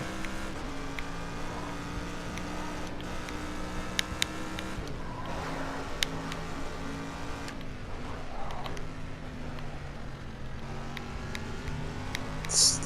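A race car engine in a driving video game holds a steady drone as it eases through a slow corner, the pitch shifting slightly while the motor stays close and continuous.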